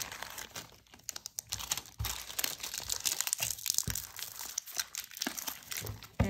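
A Pokémon Silver Tempest booster pack wrapper is torn open up close, a dense run of crinkling and crackling foil that rises and falls in irregular bursts for several seconds.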